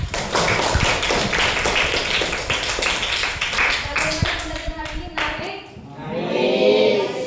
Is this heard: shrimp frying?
no